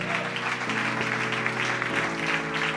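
A church congregation claps steadily for the Lord during a service, a dense wash of applause running throughout over sustained music.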